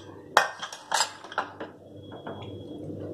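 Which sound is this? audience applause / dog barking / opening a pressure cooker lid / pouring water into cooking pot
opening a pressure cooker lid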